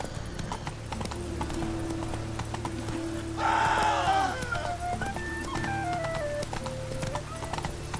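Horse hooves clip-clop steadily in The Witcher 3 video game, a continuous trotting rhythm under game music, with a short whinny-like burst midway.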